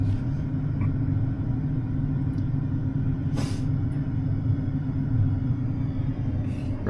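A John Deere S680 combine's engine runs at high throttle, a steady deep rumble close by. Faint hissy bursts break through now and then, with no talk.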